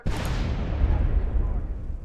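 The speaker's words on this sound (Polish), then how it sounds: "zobaczmy, co się wydarzy, gdy te wszystkie ładunki wysadzimy w powietrze" Massive detonation of explosive charges in GTA San Andreas: a sudden loud blast followed by a long rumbling roar that slowly decays, dense and boomy throughout.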